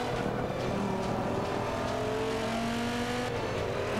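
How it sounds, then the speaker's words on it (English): 2013 Dodge Viper engine in the Forza 5 racing game, revving hard and steadily through a sustained high-rpm drone with shifting tones, loud and continuous with no talk over it. "I gotta push this car to the limit. Just hear that engine,"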